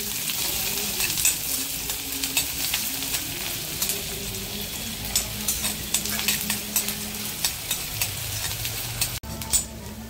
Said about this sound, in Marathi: खडा मसाला परतला का आता त्याच्यामध्ये कांदा टाकून घेऊया फोडणीसाठी।